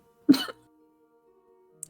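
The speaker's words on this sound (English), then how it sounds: "you cough out the last bit of seawater" A single short, harsh cough from a person clearing seawater from the lungs, loud and close, followed by near silence and a faint click.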